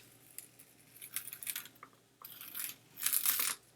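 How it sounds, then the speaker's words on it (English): Masking tape peeled away from a watercolor painting of a lighthouse, a close, crackly tearing rasp in two bursts, one short and uneven, then a longer louder strip pulled off near the end. "Okay, so I'm taking this tape off"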